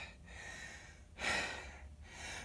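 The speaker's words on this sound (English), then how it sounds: "As you can hear, I'm breathing heavy even." A man catches his breath after lifting a heavy clutch into place on a dually truck build, with a few faint, close breaths and one louder gasping exhale standing out clearly above the quiet background.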